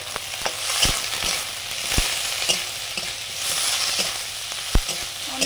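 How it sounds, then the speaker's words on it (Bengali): Onions frying in a pan with steady hiss and crackle, punctuated by occasional scrapes and clicks of stirring; close and moderately loud, no voices. "এবারে পেঁয়াজ ভাজছি মাখাগুলো করার জন্য"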